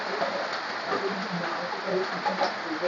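A torrential downpour pours down around a small shop, a dense unbroken rush of rain with faint drips mixed in, steady and close.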